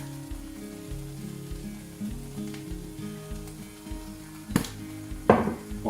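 Onion and apple sautéing in a pan for onion soup give a steady low sizzle and frying crackle, with a few louder clattering bursts of stirring near the end; nobody speaks.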